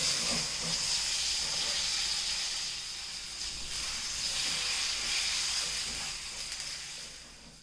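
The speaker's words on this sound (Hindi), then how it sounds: "और अब हम इसमें ये लंबे कटे हुए बैंगन जो है इनको डाल के फ्राई कर लेंगे।" Long-cut eggplant pieces frying in a pan, producing a continuous loud hiss and sizzle that swells and eases slightly, heard close with no talking.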